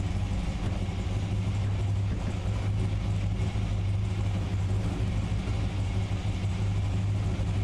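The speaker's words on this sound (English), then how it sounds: "The engine just thumping away on the Paw Patrol car." A V8 Supercars race car in a sim racing game idles on the starting grid at Laguna Seca, a steady low engine thump droning without a break, with no talk over it.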